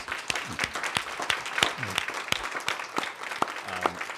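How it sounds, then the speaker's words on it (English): Audience applause at a Board of Education meeting honouring student athletes: scattered, uneven individual claps from a modest crowd, with a few faint voices underneath. "Can we give them a round of applause, please?"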